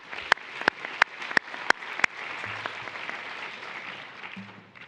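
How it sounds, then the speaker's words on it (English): Audience applause at an event starts with a few sharp, separate claps and builds into a steady, moderately loud round of clapping from a crowd that holds to the end. "let's give those folks a round of applause"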